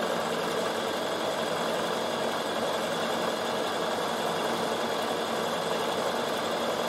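A Bernina sewing machine runs a steady, continuous stitch while couching wool onto a felted door stop, producing a dense mechanical hum that holds at an even level without pauses.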